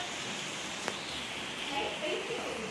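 Heavy rain falls at night in Velachery, Chennai, a steady broadband hiss with one sharp tap near the start and some faint background sounds.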